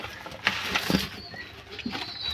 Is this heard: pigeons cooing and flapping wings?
yes